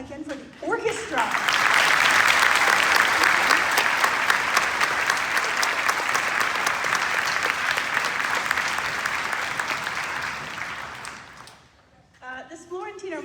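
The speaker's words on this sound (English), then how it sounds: "Let's give a round of applause again for the orchestra." An audience applauds an honor band's wind orchestra, a loud, sustained burst of dense clapping that swells early, holds for about ten seconds and then fades, with brief speech before and after.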